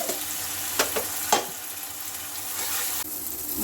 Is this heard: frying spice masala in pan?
yes